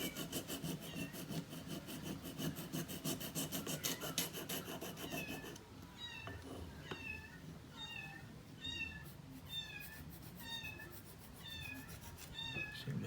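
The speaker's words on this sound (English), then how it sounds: "Seem to have baby kittens somewhere." Several small baby kittens mew in repeated short, high calls for their mother, spaced through the second half over a steady rasping of a file on hard bone in a guitar repair workshop.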